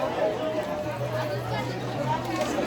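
Steady babble of a dense crowd at the busy Jejuri temple, many voices blending into a constant murmur, with a nearby voice talking over it.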